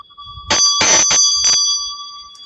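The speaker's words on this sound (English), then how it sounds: "I did buy one of her bells." A handheld bell rings in several quick bursts, loud and close, with a sustained bright ringing tone that hangs between and after the strikes and then fades out alone.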